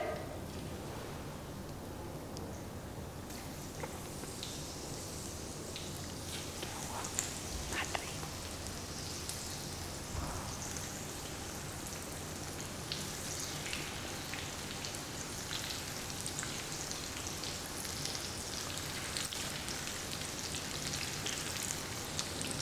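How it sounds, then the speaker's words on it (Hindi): Cauliflower pieces frying in hot oil on a gas stove, a steady, soft, continuous sizzle with light crackles that runs unbroken throughout. "waiting for the oil to heat up again so that I can add in my last batch of cauliflowers"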